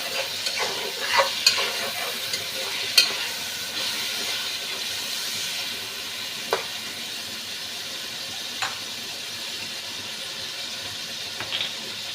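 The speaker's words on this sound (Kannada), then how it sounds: "ಸ್ವಲ್ಪ ಉಪ್ಪು ಹಾಕಿ ಮಿಕ್ಸ್ ಮಾಡಿ." A chicken biryani mixture with salt added sizzles in a pan while being stirred, a constant hissing fry punctuated by a few sharp spoon scrapes and taps, close and without talk.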